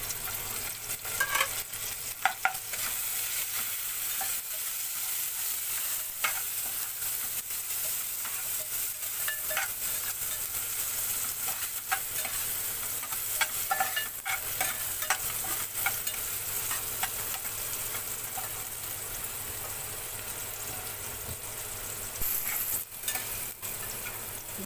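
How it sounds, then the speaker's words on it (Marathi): Tomatoes fry in a pan with onion and curry leaves for a spicy jackfruit-seed curry, a continuous close sizzle broken by frequent spatula scrapes and stirring clatter. "आता आपण टॅमॅटो टाकून घेऊया."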